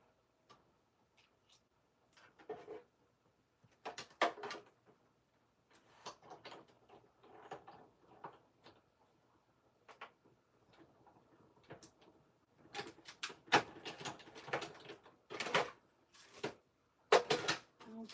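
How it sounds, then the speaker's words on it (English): A manual die-cutting machine presses card stock into Halloween card pieces, giving quiet, irregular ticks, clicks and clunks in short bursts. The bursts grow denser and louder toward the end, and nobody speaks. "just 1 second while I die cut this, friends"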